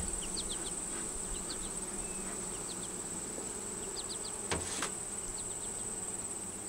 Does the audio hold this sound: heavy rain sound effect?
no